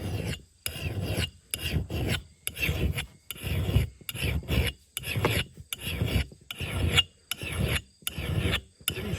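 A hand file sharpens an axe blade off grid, rasping in about a dozen crisp, close, evenly paced strokes, each separated by a short silent gap.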